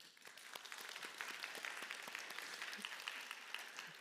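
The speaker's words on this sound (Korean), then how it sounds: "박수로 한번." A church congregation applauds steadily throughout, a dense wash of many hands clapping with no break, at moderate loudness, with no one speaking.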